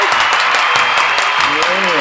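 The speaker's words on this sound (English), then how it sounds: "should we give Ridley a big clap?" Family members clap for a young child at home after a drawing game, a brief burst of close, loud applause mixed with cheerful voices talking over it.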